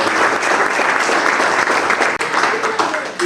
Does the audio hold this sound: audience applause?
yes